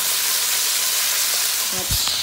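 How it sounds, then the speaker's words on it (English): Beef for Beef Wellington sizzles loudly searing in a hot pan, a dense, steady crackling hiss with a brief clunk near the end. "So let's get it in the pan. And, you hear that sizzle."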